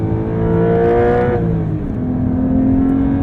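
A 2023 Porsche 911 T with a manual gearbox revs hard while driving, the engine note rising, dropping at a gear change, then climbing again, loud and close throughout.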